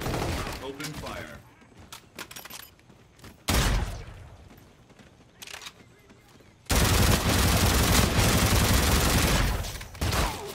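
Sustained gunfire and explosive bursts in Call of Duty: Infinite Warfare, with scattered shots early, a heavy blast near four seconds, then a loud continuous barrage filling the last four seconds; game voices speak at times.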